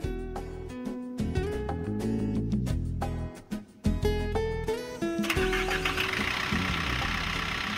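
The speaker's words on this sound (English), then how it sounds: "When finished supplying the radiator with water, tighten the radiator cap and start the engine." A Kobelco excavator's diesel engine is cranked and catches, settling into a steady rumbling idle after a few uneven bursts, loud and close with no talking.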